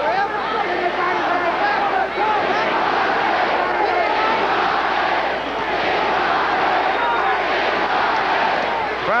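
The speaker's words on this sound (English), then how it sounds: "Crowd starting to roar" A boxing arena crowd roars steadily and loudly in a heavyweight fight between Mike Weaver and John Tate, a dense continuous wall of cheering and shouting with no break.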